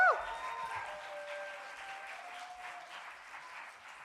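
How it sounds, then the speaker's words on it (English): Audience applause for student performers at an arts academy evening show, a steady wash of clapping with a few cheers at the start that holds for the whole stretch, fading slightly toward the end. "Let's give them a big applause one more time."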